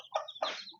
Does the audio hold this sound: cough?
no